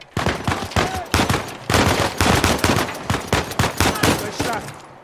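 Bursts of automatic gunfire in Uncharted 4 crack out in a fast, loud string of shots with brief gaps between volleys over the whole stretch.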